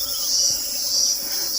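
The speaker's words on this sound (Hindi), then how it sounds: "ये आवाज़ सुन रहे हो मधुमक्खियों की?" A steady, high insect buzz from honeybees gathering pollen on a flowering wild vine in an orchard, continuous and fairly close throughout with no talking.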